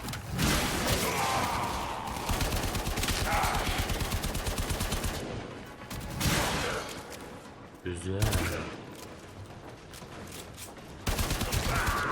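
Gunfire in the sci-fi shooter Warframe: dense bursts of rapid automatic shots and fusillades, loud and near, broken by brief pauses and thuds, with talk in the background.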